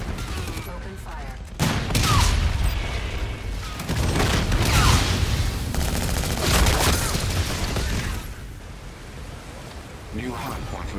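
Sustained, dense gunfire and booms from the video game Call of Duty: Infinite Warfare fill the mix throughout. Loud, continuous shooting runs under voices from game characters.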